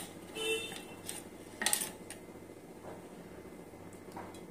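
A metal kadai is set down on a home stovetop before frying raw plantain, giving a couple of faint clanks and one sharper metallic knock over low kitchen room noise.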